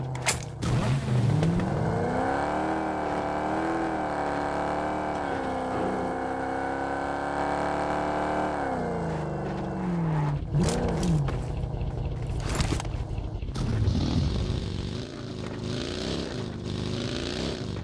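A car in the mobile battle-royale game PUBG Mobile drives with a continuous engine drone that rises and falls as it speeds up and slows, up close, with a few sharp bursts and clatter near the end.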